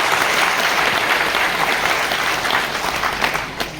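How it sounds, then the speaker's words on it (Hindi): An audience at a business seminar hall gives loud, sustained applause, a dense wash of clapping that fades slightly toward the end. "एक बार जोरदार तालियां बजा लीजिए आप अपने लिए।"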